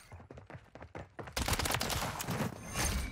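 Gunfire from battle rifles in the video game Modern Warfare 3: scattered sharp shots at first, then a dense, loud burst of rapid fire that carries on to the end.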